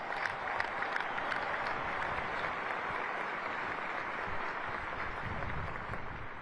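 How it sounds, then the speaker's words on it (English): Applause fills a West Point commencement crowd, a steady, dense wash of many hands clapping across a large outdoor gathering, sustained evenly throughout without pause. "Let's give them a round of applause."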